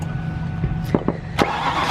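A car engine that has been leaking transmission fluid and smoking from the tailpipes is cranked to start, giving a low idle rumble with a few sharp clunks and bursts close by and no talking.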